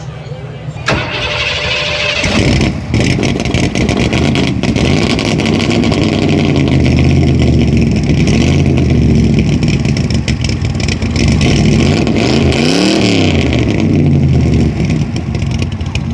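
A 1960 Mercury Montego car engine starts and revs repeatedly at a car show, rising and falling in pitch close by, with people talking over the roar.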